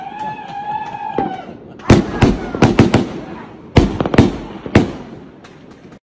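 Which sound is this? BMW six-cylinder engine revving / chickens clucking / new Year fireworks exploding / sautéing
new Year fireworks exploding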